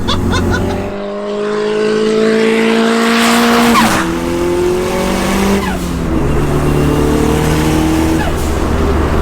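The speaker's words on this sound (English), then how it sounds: "you put your foot down, there's a little bit of turbo lag and then the boost comes in and you're pinned back on the seat" A turbocharged hot hatch accelerates hard on the street, its engine note climbing in loud rising sweeps through the gears with brief drops at shifts, close and dominant throughout.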